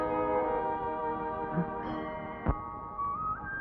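A temple bell rings with a long, shimmering tone that slowly fades over several seconds, with a soft knock partway through and no voices.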